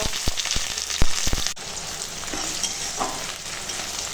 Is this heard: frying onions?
yes